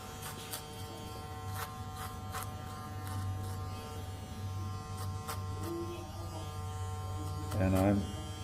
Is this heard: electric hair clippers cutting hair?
yes